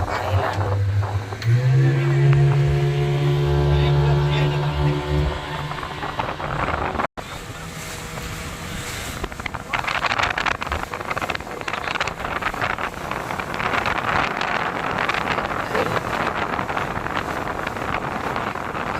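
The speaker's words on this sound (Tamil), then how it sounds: "போட்டில் கூட்டிகிட்டு போகிறாங்க. குருசடை ஐலாண்டு." A motorboat carries passengers out to Kurusadai island off Rameswaram. A steady engine drone is heard at first, then heavy wind buffeting and water rush take over, loud and continuous.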